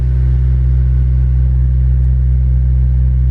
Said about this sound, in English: this car does idle a little high when it gets hot